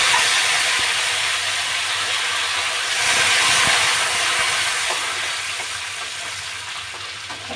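Coriander sizzling in hot oil with crushed garlic, cumin and curry leaves over a lowered flame, a loud continuous hiss that holds steady throughout and eases slightly toward the end.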